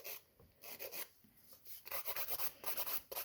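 Fiber gel nail extensions being filed with a nail file, giving short bursts of scratchy rasping strokes, sparse at first and then quicker and steadier toward the end, close and fairly quiet with no talking.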